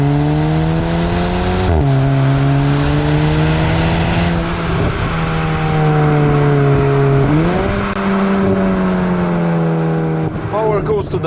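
A 2019 VW Golf GTI TCR with a remapped engine and new stainless steel exhaust, its engine note droning steadily and rising in pitch through two upshift-like steps, loud and continuous with road noise underneath.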